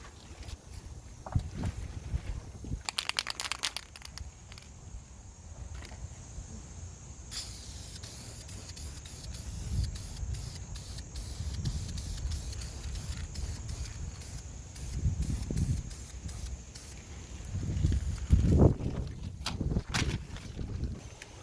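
An aerosol spray can hisses in several long bursts as base coat is sprayed onto brake calipers, with short pauses between passes and some handling noise, no voices.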